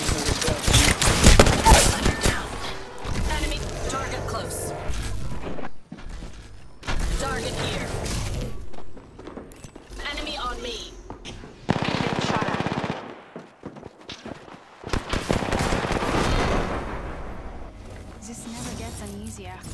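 Gunfire in the video game Apex Legends, with repeated bursts of rapid automatic shots and booming impacts, loud and dense, set among in-game voice lines and mechanical clatter.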